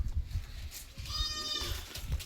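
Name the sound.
goats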